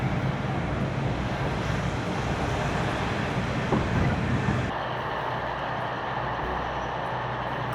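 KiHa 47 diesel railcar running on the JR Shikoku Kotoku Line toward Hiketa, a steady low rumble of engine and wheels heard from inside, with a quieter shift midway.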